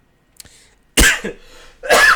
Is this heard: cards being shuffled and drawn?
no